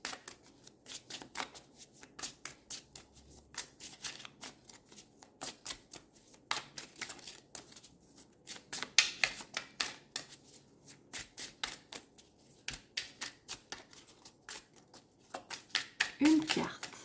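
Tarot cards are shuffled and handled up close in a long run of crisp, quick riffles and snaps with short pauses, while a voice talks at times.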